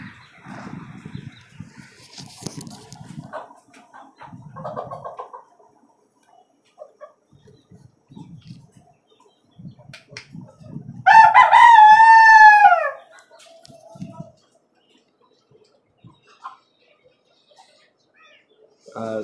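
A rooster kept in a cage with hens of the same colour gives one loud, drawn-out crow, surrounded by sparse soft clucks and scattered quiet knocks in a mostly hushed setting.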